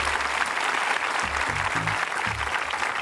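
An audience at a Q&A event in Yolngu country in remote Arnhem Land applauds steadily, a continuous wash of clapping with low rumbling tones beneath it.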